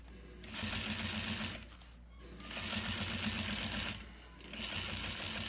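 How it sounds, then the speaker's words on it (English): A sewing machine stitches straight across fabric for a pouch, running in three close, loud bursts of rapid mechanical chatter separated by short pauses. "I use the edge of the foot and line it up here on the edge of the fabric where the two meet, and I'm just going to stitch across."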